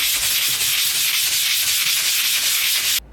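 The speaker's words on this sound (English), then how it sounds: "you can then sand it all off" Sanding dried paint off a door repair, a fast, steady abrasive scratching of paper over the painted surface, loud and close, running continuously before stopping abruptly near the end.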